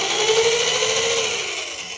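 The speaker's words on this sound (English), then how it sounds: "make it perfectly perpendicular, and just slowly start it, and then drill through." A power drill bores through a wooden kendama, giving a steady, close, grinding whir with a droning motor note that sags slightly as the bit cuts through the wood.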